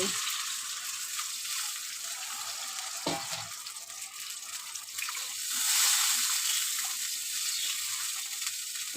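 Water goes into a hot pan of fried taro and spices for a tilapia curry, and the steady close sizzle swells louder and hisses for a few seconds before settling back.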